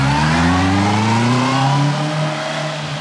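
Engines accelerating away on the Stelvio Pass, a steady rising harmonic drone that swells loudly then slowly fades into the distance over a few seconds, with no talk.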